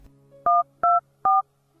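Three telephone keypad tones beep out at an even pace, each a short loud dual-pitched note, over a faint low hum with no talking.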